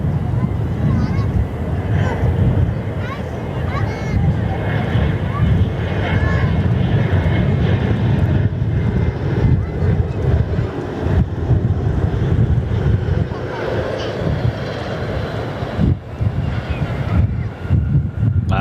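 A Fokker F100 airliner passing near the runway threshold at Perth Airport, a steady broad roar with strong low rumble and gusty wind noise on the microphone, sustained throughout and easing slightly toward the end.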